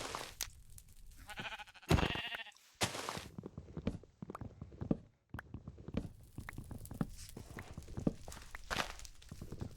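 Sheep bleating in a video game, heard in short bursts among footsteps and other game sounds, with people talking over much of it.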